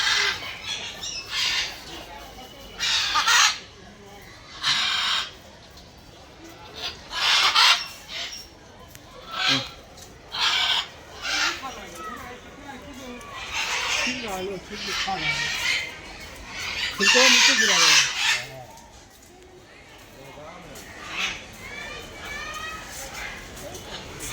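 Birds at an old zoo in India give loud, repeated squawks and clucking, chicken-like calls in uneven bursts, with people talking nearby throughout.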